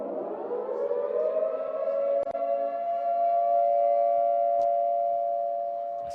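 A loud siren at a school football match winds up and holds a sustained, steady wail for several seconds, signalling the second half, with a couple of faint clicks in the background.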